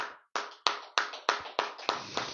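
Handclaps at a Friday church Bible study: about seven sharp, separate claps in a quick, slightly uneven rhythm, crisp and close in a quiet room.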